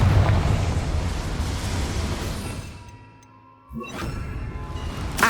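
A Confringo fire spell explodes in the video game Hogwarts Legacy. A loud, roaring blast fades away over a few seconds, then a second sharp burst hits and rumbles on.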